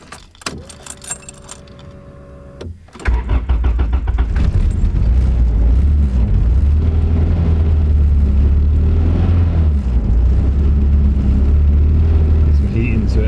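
A turbocharged car engine with a distributor runs rough after a cold start, a loud uneven idle rumbling near the microphone, preceded by a few seconds of jangling keys and a brief engine catch.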